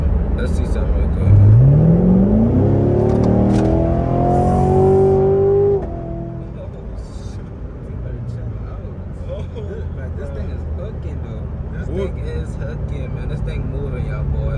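Corvette accelerating hard on its first drive, engine pitch climbing steeply through the gears then easing into a steady cruising hum, with people talking over it.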